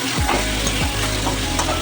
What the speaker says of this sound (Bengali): এই মশলাগুলো ভালো করে ভেজে দিতে হবে